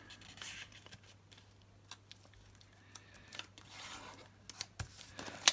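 Paper being folded and tucked into a multicoloured pocket, a quiet close rustling and rubbing with a few soft creases and a sharper crinkle near the end.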